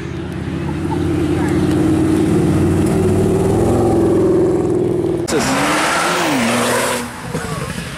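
A loud car engine roars up close and speeds past, its pitch sliding as it goes, followed by a sharp whoosh and a fading drone.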